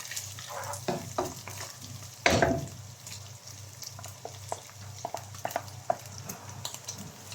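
Fried rice with bacon stirred in a pan, a soft sizzle broken by repeated scraping and tapping of a spatula, with one louder clatter partway through.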